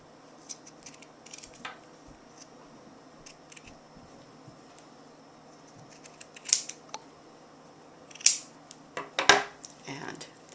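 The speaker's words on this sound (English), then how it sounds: "Now I'm going to cut right down the center of the knit stitch." Sharp scissors snipping down the center of a knitted stitch column to open a steek, with quiet handling rustle and a few crisp close cuts that grow louder toward the end.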